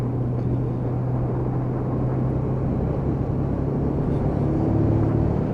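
A Lexmoto Michigan Euro 5 motorcycle under way on a ride test, its engine a steady low drone mixed with wind rumble, continuous and fairly loud throughout.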